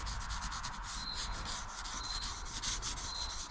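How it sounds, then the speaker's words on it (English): Sandpaper rubs back and forth over the graphics layer on a racing helmet, a close, quiet, rhythmic scratching of short even strokes. "You can just barely sand over it"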